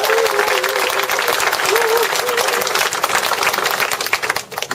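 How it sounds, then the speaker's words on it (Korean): An audience at a lecture event applauds pitch presenters, with dense, sustained clapping from a sizable crowd that stays loud and even throughout before thinning slightly at the end. "첫 번째, 열정의 화신 강인선 대표님 박수 한번 주셨습니다."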